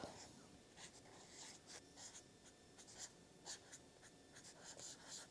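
Close, quiet pen scratching in a Hobonichi Cousin planner, short strokes coming in quick uneven bursts as a list is written out.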